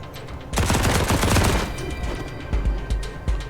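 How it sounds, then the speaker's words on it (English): Submachine gun fire in the game Wasteland 3: a sustained, loud rapid burst of shots lasting about a second, followed by a few scattered heavier shots and thumps close by. "submachine guns are really good"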